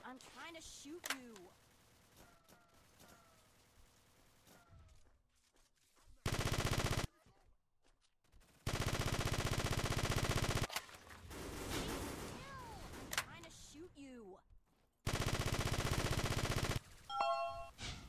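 Video game gunfire in loud, sustained automatic bursts, several long volleys cutting in and out between a player's shouting and talking.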